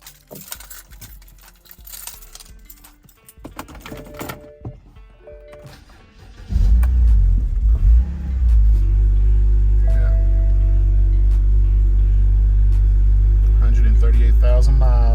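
A 2009 BMW 128i that has sat unused for four months cranks and starts, then settles into a loud, steady, close idle after some earlier handling noises and clunks.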